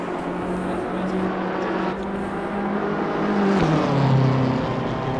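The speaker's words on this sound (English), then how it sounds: "Now we can actually hear some cars going around" Race cars lap the Paul Ricard circuit, heard as a steady droning engine tone that rises and falls in pitch as the cars pass at moderate distance, with continuous background rumble.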